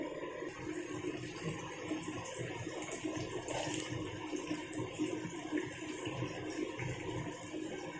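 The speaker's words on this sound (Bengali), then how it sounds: "তেলের উপর ডিমটা দিয়ে দিলাম।" An egg dropped into hot oil fries with a steady, even sizzle that hisses continuously at a moderate level, with no voices over it.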